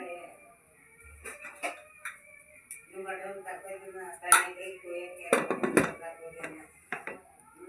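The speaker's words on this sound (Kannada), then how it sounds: "ಈಗ ಕುಕ್ಕರ್ ಲಿಡ್ನ ಮುಚ್ತಾ ಇದ್ದೀನಿ." A pressure cooker lid is fitted and closed on a pot of egg and country-chicken sambar, with scattered metallic clanks and a few sharper knocks near the mic while someone talks.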